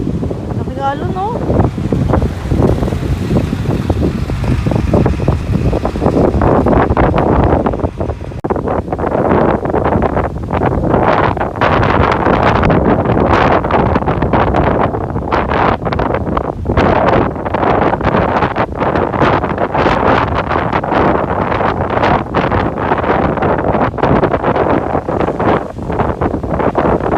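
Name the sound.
strong ocean waves with wind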